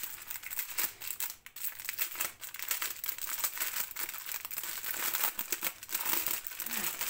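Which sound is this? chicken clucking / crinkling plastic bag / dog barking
crinkling plastic bag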